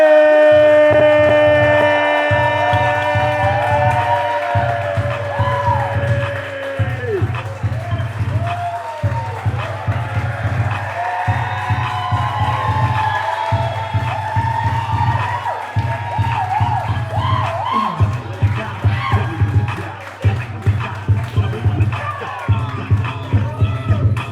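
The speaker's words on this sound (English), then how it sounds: "It's not every day I get cheers like this, okay?" A large audience cheers and shouts for a comedian walking onto the stage, a loud sustained crowd roar with steady rhythmic pulses underneath, continuing for over twenty seconds.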